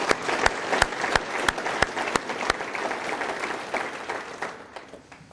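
A city government event audience gives a round of applause, dense clapping with a few sharp loud claps near the start, gradually thinning out.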